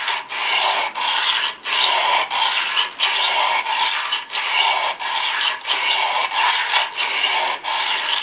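A knife blade grinds on a whetstone in rhythmic back-and-forth strokes, a bright rasping scrape about once a second with short gaps between passes, close and loud, with no speech.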